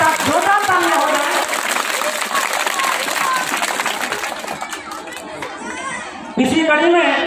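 Audience applause at a school annual function, dense clapping mixed with crowd chatter and children's voices, fading somewhat before a fresh burst near the end.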